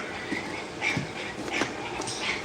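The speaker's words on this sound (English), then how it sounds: "That's the dog and the puppy that's in a crate right now, whining." A dog and a puppy shut in a crate whine in thin, high, repeated whimpers that rise and fall over a steady background hiss, fairly close, with no voices.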